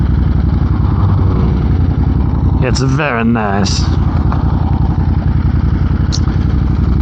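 A 2022 Ducati Monster with a Termignoni exhaust, its dB killers removed, rumbles steadily throughout with a deep, constant engine drone. A voice speaks briefly over it near the middle.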